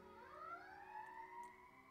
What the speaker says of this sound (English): I think that's a fire truck or an ambulance.